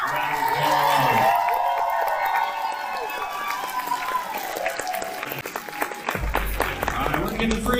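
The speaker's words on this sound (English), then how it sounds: "One more time, give them a huge round of applause." A convention audience at New York Comic Con applauds a cosplay award winner, clapping and cheering spread through a crowded hall while an amplified voice talks over it and music plays in the background.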